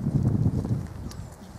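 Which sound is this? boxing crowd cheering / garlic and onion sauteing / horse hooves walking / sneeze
horse hooves walking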